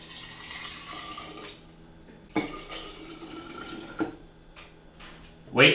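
Water splashes and trickles into a container in a few bursts, with a couple of sharp knocks and a louder splash at the end.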